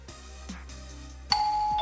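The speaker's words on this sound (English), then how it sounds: "Ding dong." A doorbell rings out once with a clear, sustained chime, following a quiet stretch of soft background music.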